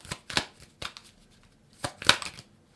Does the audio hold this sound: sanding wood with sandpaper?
no